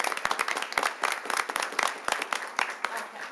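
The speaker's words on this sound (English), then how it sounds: "Round of applause first, I think. Okay, round of applause." Small group clapping at a city council meeting, a sparse, fairly close patter of distinct handclaps with uneven rhythm lasting a few seconds, without a large crowd roar.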